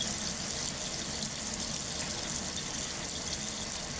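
Hot water runs steadily from a tap while an HP OfficeJet Pro 8600 print head is cleaned. The flow is an even, close hiss and splash that keeps going without a break, with no voices.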